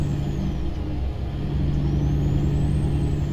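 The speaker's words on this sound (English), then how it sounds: "That truck sounds good in here." Freightliner FLX truck with a Caterpillar 3406 diesel engine in American Truck Simulator, a steady low engine drone heard from the cab at cruising speed, moderately loud and continuous with a slowly shifting higher whine.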